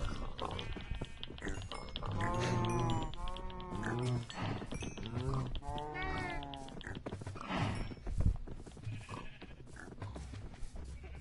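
Minecraft farm animals being bred, a run of bleating, meow-like animal calls repeating every second or two at moderate level, with scattered clicks and game sounds behind them.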